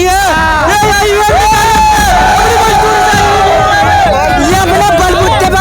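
Loud crowd of supporters shouting and chanting at a political rally for Chandra Shekhar, dense overlapping voices and cries continuing throughout with no break.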